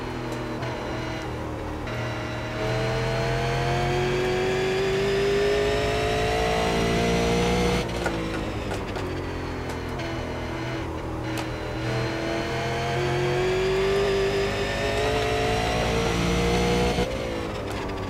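A Super Late Model race car engine in iRacing at Thompson, a short oval: a loud, continuous engine howl rising and falling as the car laps, with repeated throttle lifts and revs, no voices.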